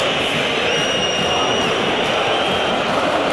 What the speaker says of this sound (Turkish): Biz kızıyoruz, taraftar alkışlıyor.